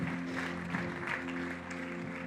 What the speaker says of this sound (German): Und wir geben euch nochmal einen ganz, ganz grossen Applaus auf eurem Weg hier rüber.